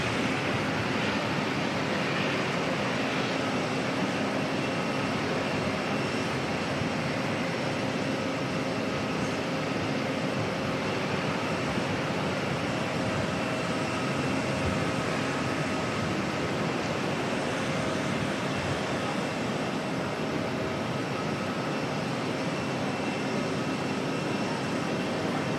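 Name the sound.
Airbus A321 airliner passing by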